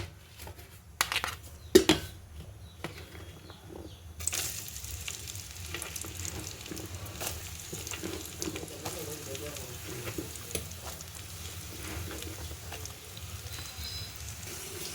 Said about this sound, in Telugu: ఇప్పుడు పచ్చిమిర్చి ఉల్లిపాయలు వేసుకుందాం.